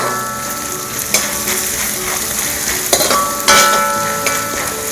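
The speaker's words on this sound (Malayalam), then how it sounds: "ഒരു പീസ് ഇഞ്ചി ഒന്ന് ചെറുതായിട്ടൊന്ന് മൂക്കട്ടെ" A piece of ginger sizzles steadily in oil in a pan for healthy ragi semiya upma, close and continuous, with a few clinks of a spoon or utensil stirring.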